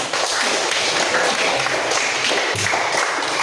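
Classroom students clap their hands together in a steady, dense burst that fills the room, close and loud, with no talk over it.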